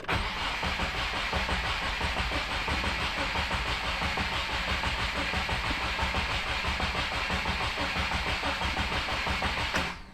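A Subaru WRX fitted with a Perrin oil cooler kit and AN lines runs steadily for about ten seconds, a continuous, loud, even engine drone heard close up with no speech over it.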